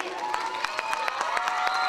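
Concert audience in Hakkari claps in quick, even rhythm, sharp hand claps cutting through sustained singing and music, with crowd noise behind.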